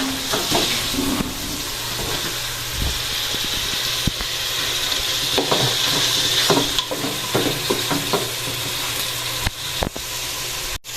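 Pork sizzles and hisses in a pot for sinigang in a provincial home kitchen, a constant frying crackle broken by irregular scrapes and knocks of stirring.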